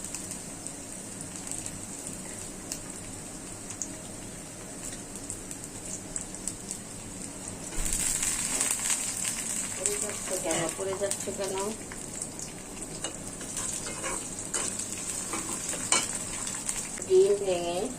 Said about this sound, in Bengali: এখানে দিয়ে দিচ্ছি কাঁচামরিচ